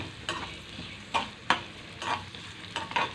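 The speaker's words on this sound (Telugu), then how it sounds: "ఈ పెద్ద ఉల్లిపాయ ముక్కలు వేగుతున్నాయి." Large onion pieces with cumin seeds sizzle steadily in a pan for brinjal curry, a soft continuous fry broken by several sharp scraping stirs of a spoon, close and without talk.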